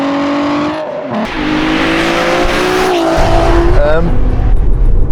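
A supercharged Mk4 Volkswagen Golf R32 engine roars and revs close by, its pitch climbing and dropping as the car accelerates, with some tire noise mixed in.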